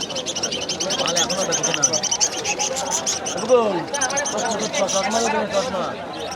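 Caged birds at a pet market near Kolkata chirp and call repeatedly near at hand, their bright, warbling notes mixed with people talking in the background.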